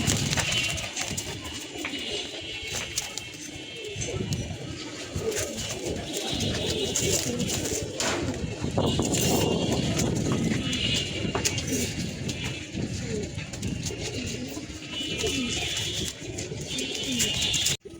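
Pigeons kept in a rooftop loft coo steadily and close by, a dense, continuous murmur of soft low calls with occasional shuffling throughout, and no talking.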